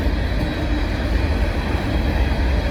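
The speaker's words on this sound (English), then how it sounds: "That's a long train." A long Amtrak train rolling past on the tracks at night, a loud, steady rumble and rush of wheels and cars close by, continuous throughout with no talk.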